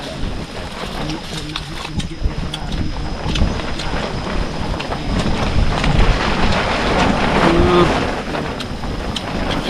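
Wind blowing outdoors makes a steady, rough broadband rush with gusts that swell toward the middle and ease near the end, while voices talk faintly underneath.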